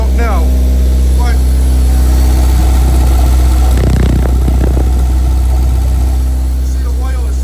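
A Mitsubishi engine swapped into a Porsche runs with a loud, steady idle drone close by, while someone speaks over it for much of the stretch.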